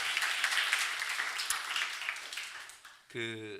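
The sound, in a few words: congregation applause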